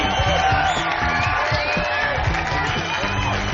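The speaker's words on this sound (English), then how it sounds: "Big round of applause" Crowd cheering and applause at a 2003 Canadian Motocross National awards ceremony at Walton, a steady roar of clapping and whoops with an announcer's voice over it.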